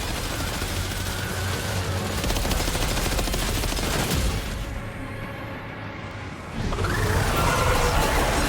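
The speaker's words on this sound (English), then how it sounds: "Opening fire now." Sustained gunfire in the video game Death Stranding 2, with dense automatic bursts and rapid shots running almost continuously, a brief lull near the middle, then heavy firing resuming loudly.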